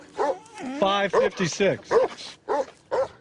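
A mastiff gives a run of deep, rhythmic barks and woofs, six or seven in quick succession, close and loud, with a voice speaking briefly over them.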